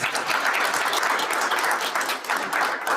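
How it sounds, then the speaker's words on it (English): A room at a book launch breaks into a round of applause, dense continuous clapping from many hands, loud and even throughout with no talk over it. "I think it deserves a round of applause."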